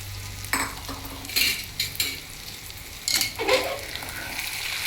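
Pre-fried cashews and chana dal tipped into a pan of Andhra-style okra fry, giving a few scattered clattering bursts and scrapes over a steady low sizzle, fairly close.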